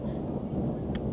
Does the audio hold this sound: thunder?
yes